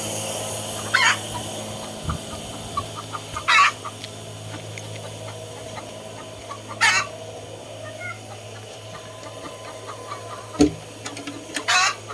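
Several short bursts of chicken clucking and squawking, some near and some farther off, spaced irregularly over a steady hum of background noise.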